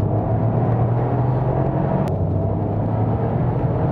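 A Toyota GR Yaris GRMN accelerates on a race circuit. Its engine gives a steady, loud drone with a low rumble that holds throughout, without a clear break.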